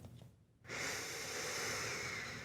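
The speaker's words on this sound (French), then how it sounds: "J'inspire et je sais que j'inspire. J'expire et je sais que j'expire." Slow breathing in and out during a guided meditation: a soft, steady airy breath close to the ear, with a quieter start giving way to a sustained exhale that runs alone, without talk.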